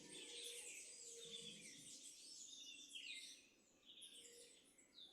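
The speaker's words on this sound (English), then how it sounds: "I bet that actually everybody can hear some birds calling" Wild birds call and chirp in the lower Andean foothills of western Ecuador, with several overlapping high, fluttering songs over a steady background hiss.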